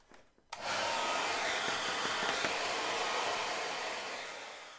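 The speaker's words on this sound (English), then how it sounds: "All right, I'm gonna finish drying the rest of my hair now." CONFU portable folding hair dryer switching on and blowing: after a short quiet moment a steady, loud, broad whoosh of air holds evenly and fades slightly toward the end, with no talking.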